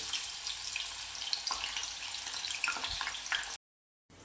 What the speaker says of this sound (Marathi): थोडेसे कडक होईपर्यंत कमी गॅसवरती तळून घ्यायचे